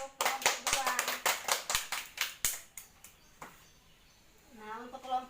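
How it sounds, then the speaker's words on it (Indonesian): A classroom claps for group 2, a burst of quick, bright hand claps that fades after a few seconds before a voice begins speaking. "Tepuk tangan untuk kelompok 2."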